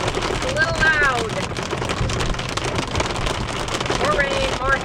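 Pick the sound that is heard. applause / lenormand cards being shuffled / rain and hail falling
rain and hail falling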